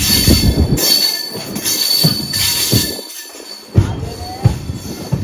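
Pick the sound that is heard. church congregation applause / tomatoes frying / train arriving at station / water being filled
train arriving at station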